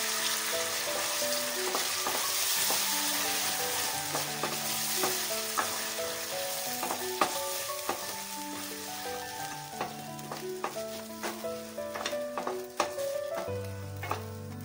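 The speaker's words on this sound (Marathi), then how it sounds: "आणि आता ही ग्रेव्ही टाकून आपल्याला परतून घ्यायचं।" Gravy for egg white kurma sautéed in a pan over low heat with a bay leaf, a continuous close sizzle overlaid with frequent scraping and tapping of the spatula against the pan.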